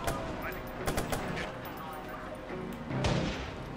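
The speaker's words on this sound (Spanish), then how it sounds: "Ah, no, están disparando." Rapid bursts of gunfire crack out in the open-world hacking game Watch Dogs on PC, several sharp shots and volleys at moderate distance over a busy game soundscape, with a louder blast near the end.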